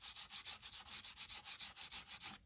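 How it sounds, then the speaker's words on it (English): Gilding flakes being burnished by hand, a steady back-and-forth rubbing in about fourteen even strokes, close and bright-edged, with no voices. "Now I'm just going to burnish this a little bit, make it a bit brighter."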